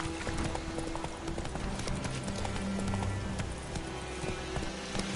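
Roach, Geralt's horse in The Witcher 3, clip-clops steadily at close range, hooves beating in an even rhythm over a dense game ambience with no one speaking.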